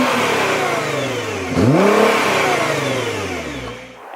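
A stock Nissan GT-R R35 revs hard, its engine climbing steeply in pitch midway through, then settling back toward a steady drone before a brief dip near the end; loud and close, with no talking.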